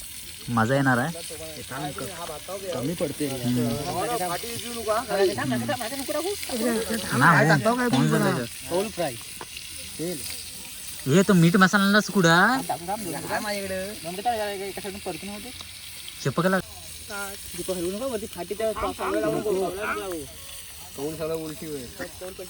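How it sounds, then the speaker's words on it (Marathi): Kaul fry sizzling in a pan while chicken biryani is cooked, a soft, continuous frying hiss running beneath several people chatting loudly and almost nonstop. "आम्ही मस्त एक कौल फ्राय करतोय"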